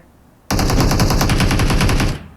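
Sustained automatic gunfire in PUBG Mobile, one loud rapid burst of close shots that starts abruptly and runs about a second and a half before cutting off.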